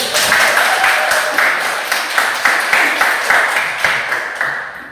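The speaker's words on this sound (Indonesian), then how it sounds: "tepuk tangan dulu ya" A class of students clapping hands in a Catholic religious education lesson, a loud, dense burst of applause with sharp rhythmic peaks, sustained for several seconds and fading slightly toward the end.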